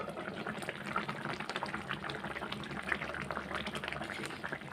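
Fish curry gravy with mustard seed bubbling on a low flame under a lid, a soft, even simmering hiss and gentle bubbling that holds steady throughout, fairly faint and close.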